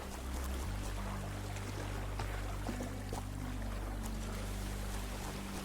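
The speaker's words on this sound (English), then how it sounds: "Is the sound of the water in my ears." Water in a video game, a steady loud wash with a low droning hum beneath, continuous and unbroken throughout with no talk.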